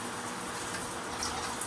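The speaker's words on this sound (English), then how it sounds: "So there, that is a much more traditional top-down shower" Water runs from a traditional top-down shower in a cabin bathroom, making a constant soft, even spray hiss with no voices.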